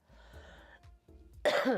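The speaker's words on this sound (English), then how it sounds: "Sorry I had to cough" A woman coughs and clears her throat indoors, a few short muffled hacks followed by one louder, harsher cough at the end, close and alone.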